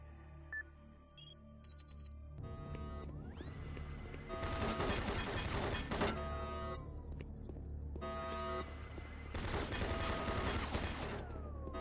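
Automated turret guns in Doom 3 fire in rapid sustained bursts, two long loud volleys of dense gunfire separated by a lull filled with electronic tones and mechanical whirring.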